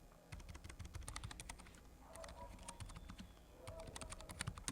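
Typing on a Keychron K3 v2 mechanical keyboard: quick bursts of soft, muted key clicks close by, separated by brief pauses, over a low background hum.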